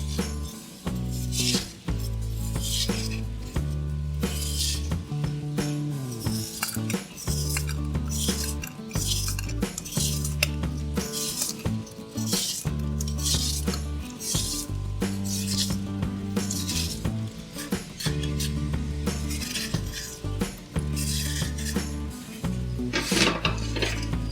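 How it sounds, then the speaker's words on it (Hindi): A knife steadily and finely chopping deseeded watermelon on a board, with rapid repeated taps and thuds in a continuous rhythm, close and loud, with no voices. "अब इनको हम बारीक बारीक काट लेते हैं।"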